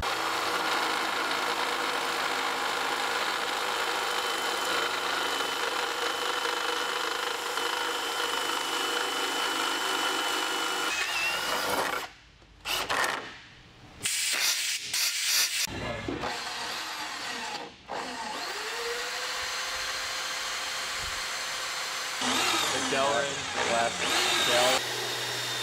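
A boring bar cutting in a drilled hole to enlarge it to final diameter, giving a loud continuous machining whine that stops and starts in the middle and ends with scraping bursts.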